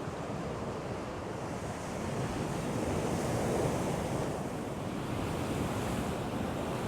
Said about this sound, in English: the sea is beginning to race up the beach a bit now.